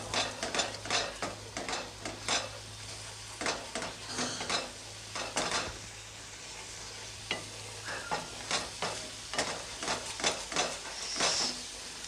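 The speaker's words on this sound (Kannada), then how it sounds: "ಹಾಲು ಹಾಕ್ಬಿಟ್ಟು ಚೆನ್ನಾಗಿ ಮಿಕ್ಸ್ ಮಾಡ್ತೀನಿ" Jackfruit halwa being stirred with milk in a pan on the stove, a steady run of scraping spoon strokes against the pan over a faint sizzle, close and moderately loud, no talking.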